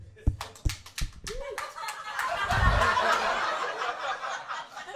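Comedy club audience at a stand-up show responds with scattered claps and laughter, a few sharp slaps early, then a denser wash of applause and chuckles that swells and holds, fairly close.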